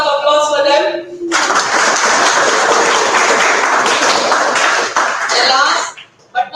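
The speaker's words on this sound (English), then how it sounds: "A small round of applause for them." Audience applause for non-teaching staff at a school World Health Day chemistry awareness event, a loud sustained burst of clapping from a room full of people, framed by a speaking voice before and after.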